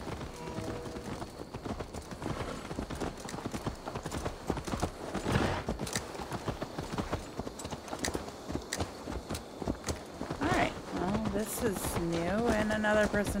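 Horse hooves clip-clop across a marketplace in the video game Assassin's Creed Valhalla, an even, repeated trot heard with game music and voices layered over it.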